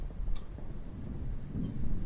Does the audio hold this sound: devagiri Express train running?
no